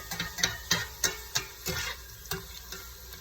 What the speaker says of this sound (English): And I'll keep stirring this and cooking it